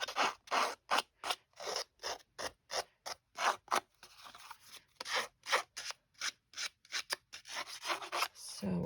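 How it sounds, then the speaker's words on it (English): Scissor blades rubbed along the edge of cardstock to distress it for a stamped card: quick, rhythmic scraping strokes repeating steadily, close and clear. "rub like this with your scissors to give it a nice little edge, white edge"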